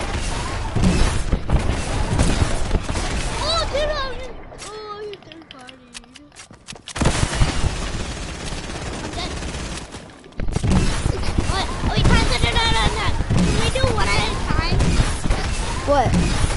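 Dense gunfire from a multiplayer shooter video game, with rapid bursts and booms that sound close and loud, briefly quieter in the middle, while players talk over it throughout.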